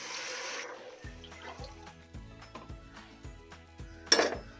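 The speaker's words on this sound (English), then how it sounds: "Just add the water with the black-eyed peas and that." Water pours into a metal soup pot holding black-eyed peas, sausage and bacon, giving a rushing splash at first, then a run of clinks and knocks against the pot with a sharp clatter near the end.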